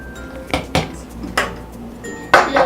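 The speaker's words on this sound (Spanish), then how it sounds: "vamos a revolverlo con un globo manual" A hand whisk works through cupcake batter of flour and a pinch of salt in a bowl, giving several sharp metallic clinks and taps against the bowl, spaced irregularly and close.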